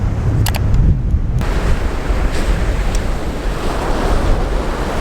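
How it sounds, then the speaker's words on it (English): Ocean waves crash onto the shoreline at Landguard Point, Felixstowe, a steady loud roar of surf with wind buffeting the microphone throughout and no voices. "the waves as they're crashing onto the shoreline here"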